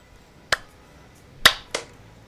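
Three sharp, separate hand claps in a quiet indoor space: one clap, a pause of about a second, then two more in quick succession, crisp and close.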